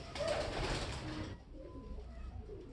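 A racing pigeon hen coos close by in a short, soft, throaty burst that trails off quickly.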